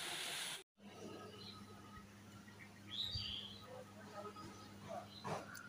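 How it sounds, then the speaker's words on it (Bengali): Birds perched on a rooftop after rain give a few faint, brief chirps over a quiet, hushed outdoor background. "দেখো এই ছাদের পরে একটুখানি বৃষ্টি ছাড়লে অনেক পাখি এসে বসে থাকে।"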